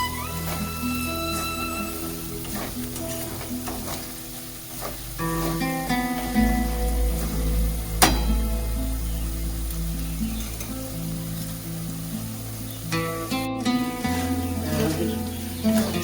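Spices fry in a pan for chicken kosha, a continuous close sizzle with stirring and scraping against the pan throughout, joined partway by a low rumbling hum.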